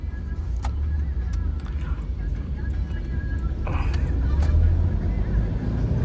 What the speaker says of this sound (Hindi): अभी भी देखो ये ट्रैफिक लगा हुआ ही रहता है।